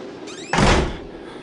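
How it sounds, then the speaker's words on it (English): A door slams shut in the horror video game Outlast, one loud, heavy thud that rings briefly and fades, preceded by a faint creak of the door swinging. "Just gonna slam the door really loud"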